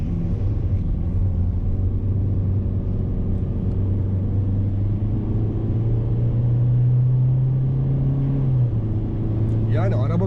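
Ford Focus 1.5 TDCi Trend X diesel car pulling onto a road in the rain, a loud low engine drone that climbs steadily in pitch under the throttle, with someone talking over it inside the cabin.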